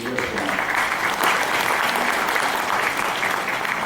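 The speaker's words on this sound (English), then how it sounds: "With a big round of applause" A large audience applauds continuously, a thick, even wash of clapping that holds steady from start to finish.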